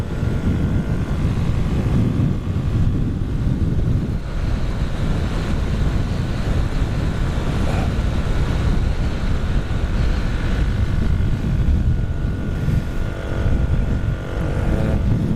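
A single-cylinder Kawasaki motorcycle rides under heavy strain with a heavy rider, climbing toward a rocky hill. The engine roar is loud and constant, mostly buried in strong wind buffeting on the microphone, with no talking.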